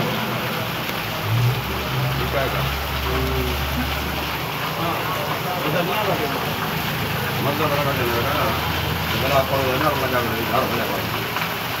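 Fresh rain falls steadily in Dera Ghazi Khan as a continuous broadband patter, with people chatting nearby and a low rumble passing underneath.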